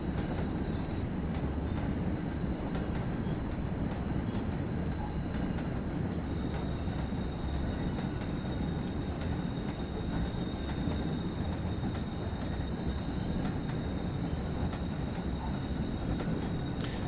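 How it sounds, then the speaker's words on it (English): A Class 37 diesel train in the Train Sim World game, on the Tees Valley Line, rumbles steadily at a low level under a thin, sustained flange squeal from the wheels, with no talking. "Decent flange squeal noises."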